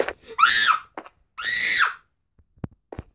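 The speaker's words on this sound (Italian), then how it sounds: "Chi è che urli così?" Screams from a player during a Minecraft lucky block race come in two loud, drawn-out bursts, each under a second long. A couple of short faint clicks follow in the quiet stretch afterward.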